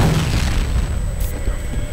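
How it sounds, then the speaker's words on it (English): A grenade detonates in the shooter game F.E.A.R., a heavy low boom that rumbles and lingers loudly throughout. "is that a grenade?"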